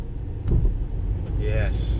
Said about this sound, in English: this bumping is quite annoying, as you can hear right here.